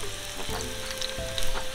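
Pieces of fish sizzling in a hot pan over low heat, a close, continuous crackle and spitting of oil that swells near the end, with no voices.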